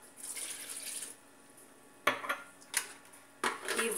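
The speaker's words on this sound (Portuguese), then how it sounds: "Vamos pôr a água." Water poured into a blender for a lemon and honey shake in a home kitchen, coming in short splashing bursts with clinks of a jug or dishes, close and clear, with no talking.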